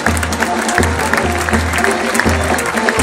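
An audience in a town square at the Rueda fiestas bull-leaping contest claps in sustained, dense applause, loud and close, with a rhythmic low thumping running beneath.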